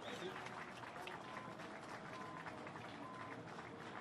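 A crowd applauds at a motorsport podium ceremony for the Funyo VdeV Challenge at the Dijon-Prenois circuit in 2017, with faint, distant, continuous clapping and murmuring voices mixed in.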